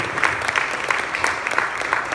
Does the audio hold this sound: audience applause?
yes